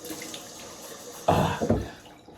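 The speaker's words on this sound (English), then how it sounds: "put some hot water on my face" Hot water gushes from a bathroom tap before a shave, starting abruptly after a quiet moment and splashing briefly in a couple of close bursts before fading.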